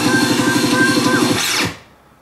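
A very quick backspin effect on a Pioneer RMX1000 DJ unit: a dense, buzzing whir with a rapid rhythmic flutter that sweeps and then cuts off abruptly into near silence, loud and up close.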